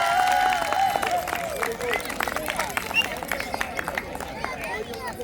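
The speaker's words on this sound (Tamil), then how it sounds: "கைதட்டுங்கள், எல்லாரும் கைதட்டுங்கள்." A crowd claps steadily at an outdoor prize-giving ceremony at a Sri Lankan Catholic festival, with a busy patter of hands mixed with chatter from the audience.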